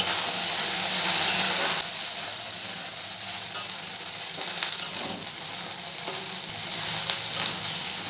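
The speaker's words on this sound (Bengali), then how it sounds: "গ্যাসের ফ্লেমটাকে মিডিয়ামে রেখে নেড়ে চেড়ে ভেন্ডিগুলোকে আমি ভেজে নেব" Okra frying in hot oil over a medium gas flame with a pinch of turmeric, stirred now and then; a steady close sizzle runs throughout with soft scraping stir noises.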